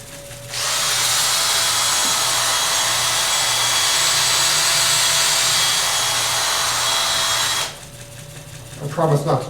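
A power sander runs on wood with 320-grit sandpaper, a loud, steady rasping whir that starts after a moment, holds for about seven seconds and then cuts off, followed by faint handling noise.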